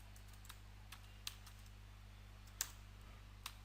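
Typing code on a computer keyboard: a few sparse, light key taps spaced irregularly over a steady low electrical hum, faint and close.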